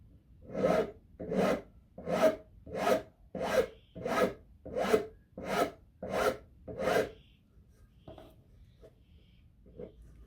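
A hand tool rasps a chamfer onto the edge of a wooden furniture foot in nine even, close strokes at a steady rhythm, followed by a few softer touches.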